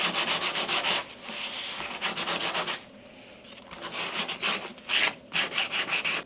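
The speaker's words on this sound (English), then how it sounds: "I think I'm gonna lightly sand it and do one more coat on it" Light hand sanding over a cured epoxy patch on a Royalex canoe hull, close and steady: rhythmic back-and-forth scratching strokes in bursts, with a short pause midway before the strokes resume.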